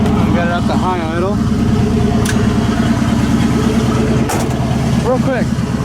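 Ford F150 engine held at high idle in a garage, a steady loud drone throughout with faint squeaky tones and a voice briefly over it.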